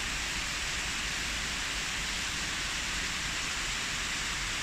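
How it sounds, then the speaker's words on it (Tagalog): Steady rain falling right after a brief hailstorm, a constant even hiss of drops with no distinct hail impacts, no voices. "Umuulan na lang, konti na lang ang yelo."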